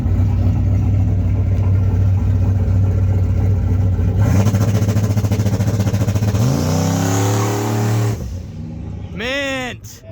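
A turbocharged Chevrolet Canyon on Holley EFI boost control with CO2 launches hard, its engine droning loud then revving up through rising pitch sweeps, cutting off before a quick final burst of revs, with voices faintly in the background.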